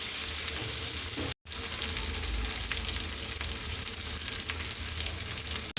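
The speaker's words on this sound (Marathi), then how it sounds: "तर इकडे मी कांदा भाजायला ठेवलाय." A constant hiss of onion roasting in a pan, broken by one brief silence early on, with faint crackles throughout.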